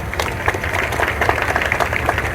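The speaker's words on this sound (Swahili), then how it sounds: "Naomba tuwapigie makofi mengi sana." Sustained audience applause fills the hall after a speech at a district council event in Pangani, a dense steady wash of many hands clapping, fairly loud throughout.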